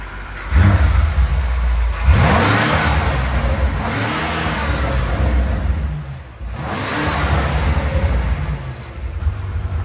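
A BMW M8 Competition with a catless downpipe and Eventuri intakes is revved hard nearby. It gives two loud rising blips that sweep up and fall back, then a rumbling idle and another throttle stab, all without voices.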